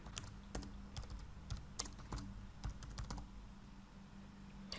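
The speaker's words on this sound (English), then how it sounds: "So I'll type in hello world here." Computer keyboard typing during a Node-RED software tutorial, a steady run of crisp key clicks spread across the whole stretch, moderately close and unaccompanied by talk.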